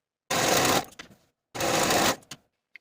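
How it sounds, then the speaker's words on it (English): A serger finishes the inseams of shorts in two loud bursts, each running under a second, with a short gap between them and faint handling clicks after each run. "Using your zigzag stitch or your serger, go ahead and finish your inseams for both your front and back pieces."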